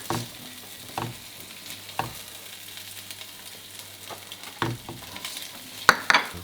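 Garlic frying in hot oil with white spring onion parts for fried rice: a constant soft sizzle broken by repeated clacks of a utensil stirring and tapping the pan, with no voices.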